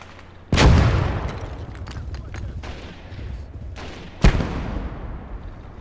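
Mortar shells explode in the WWII-style battle game Call to Arms: Gate of Hell: one heavy blast opens with a long rumbling tail, and a second sharp detonation follows a few seconds later over a steady bed of battlefield noise.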